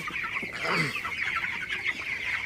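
Broiler chickens in a poultry shed cluck and murmur steadily nearby, with one louder squawk rising above the flock's continuous chatter.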